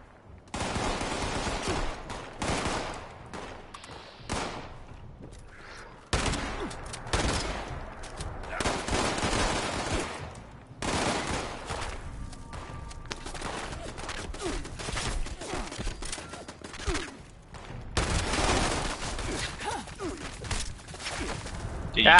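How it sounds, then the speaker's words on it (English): Automatic weapon fire in the video game Fallout 76 comes in repeated bursts of rapid shots, loud and fairly close, amid other game sounds, with players talking between bursts. "That guy's got an auto weapon!"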